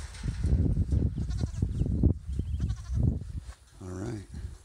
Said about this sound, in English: Happy goats.